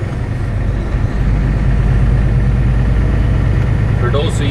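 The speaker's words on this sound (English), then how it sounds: "it's an auxiliary unit. It's a little diesel engine that runs off of my diesel" A small diesel auxiliary power unit on a truck idles steadily and loudly, a constant low rumble with no pauses, while a person talks over it.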